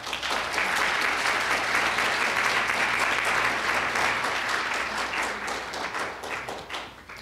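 Sustained applause from a lecture audience greeting a speaker at an evening talk on Art Deco Chicago, dense and steady for about six seconds before fading out.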